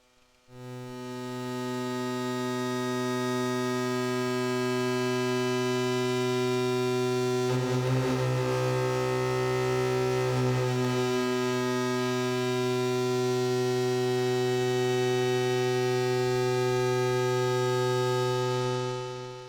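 Sustained drone of two Facehugger synth modules patched together, steady harmonic tones with a thickening, brighter swell in the middle, continuous and close with no talk.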